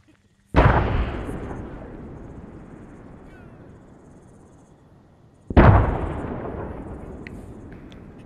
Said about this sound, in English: Explosives off. Explosives detonated.